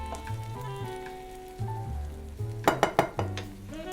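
Beaten eggs cooking in a hot pan for a 1930s Spanish omelette, giving a steady soft sizzle with a few brief clattering knocks of a utensil against the pan near the end, no voices.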